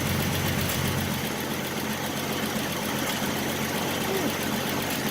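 The inline six engine of a 1967 Ford Mustang running close by, with a loud, steady, continuous idle rumble throughout.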